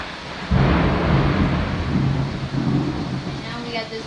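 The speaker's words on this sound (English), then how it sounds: "And now we got this really, really heavy storm" Deep thunder rumbles through a heavy storm, a broad low roll starting after half a second and swelling in uneven waves over steady rain-like noise, loud and close, with no clear speech.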